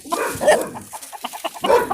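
Hens cluck in short, uneven bursts close by, with a white rooster among them in the coop.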